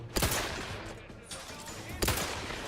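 Gunfire in The Outer Worlds 2 during combat, two sharp shots about two seconds apart over a busy background of game sounds, with a voice speaking at low level.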